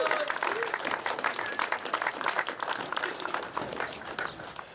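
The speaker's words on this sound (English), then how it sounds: "Give a big round of applause to Dylan Thomas." A crowd at a touring car race meeting at Wakefield Park applauds race winner Dylan Thomas with continuous, fairly distant clapping and faint voices, slowly easing toward the end.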